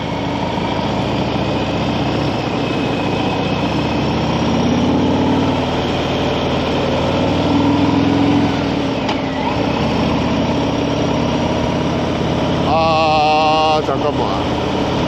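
A Hyosung Daystar 900 motorcycle engine runs steadily a short way ahead while riding along a country road, a continuous engine drone with wind rush and a brief louder burst near the end.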